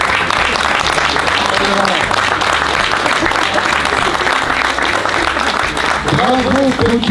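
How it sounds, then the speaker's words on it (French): A large audience claps steadily and loudly throughout, with voices talking and calling out over the applause, at a cheese producers' event at Maison Bruel, Rungis. "Je voudrais qu'on les applaudisse."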